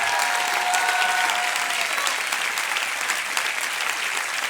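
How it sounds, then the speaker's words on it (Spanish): A church congregation claps loudly and steadily in praise, a dense sustained wave of applause filling the sanctuary, with a brief sung or spoken tone underneath at first. "Aplauda al Rey de Gloria."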